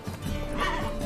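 Roach, a horse in The Witcher 3, gives a loud, close whinny lasting about a second, with a rising and falling neigh over a continuous low rumble of game sound.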